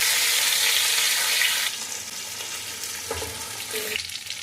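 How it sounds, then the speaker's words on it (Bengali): Fish frying in a wok, a loud steady sizzle at first that softens after a couple of seconds, with occasional scraping and bubbling close by. "এই যে কড়াইতে মাছটা ভাজা হচ্ছে"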